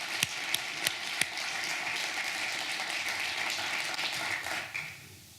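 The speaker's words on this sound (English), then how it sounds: "So in his absence, let's give David a round of applause." Applause at an academic teaching event in a hall, a few sharp nearby claps opening a broad, even round of clapping that fades away near the end.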